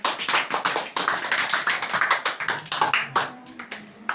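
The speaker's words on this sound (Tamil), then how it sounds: "நல்லா ஒரு ஜோரா ஒரு கைத்தட்டு" An audience at a Tamil school debate event claps in brisk, dense applause, many hands striking irregularly and loudly throughout.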